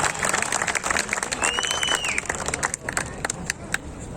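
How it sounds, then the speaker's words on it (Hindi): Audience applause at a stand-up comedy show, a dense steady wash of clapping with a few cheers lasting several seconds. "एक बार पुरजोर तालियां बजाएं।"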